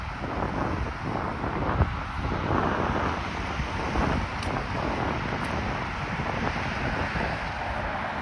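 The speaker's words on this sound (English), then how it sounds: "It's a little windy right now." Wind blows steadily outdoors in a Toronto neighbourhood, buffeting the microphone with a constant, broad rumbling roar and faint higher hiss throughout.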